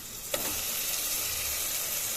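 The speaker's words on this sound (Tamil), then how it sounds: "இப்போ நம்ம இந்த சின்ன வெங்காயத்தை உள்ளே ஆட் பண்ணி நல்லாவே வதக்கி விட்டுக்கலாம்." Shallot paste sautéing in a pan for an egg omelette gravy, a steady close sizzling hiss with one brief stir clink near the start, no talk.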